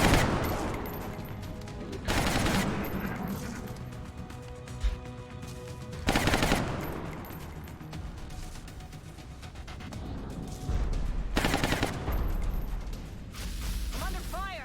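Gunfire in the video game XCOM Long War, bursts of rapid shots and booming volleys recurring every few seconds over a dense layer of game sound, with voiced game callouts in between.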